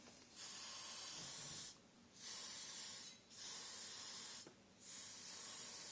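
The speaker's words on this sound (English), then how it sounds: "I'm going to get the hairspray" Hairspray from an aerosol can sprayed over a scenic workshop structure in four long, steady hissing bursts with brief pauses between them, close and fairly loud against a quiet room.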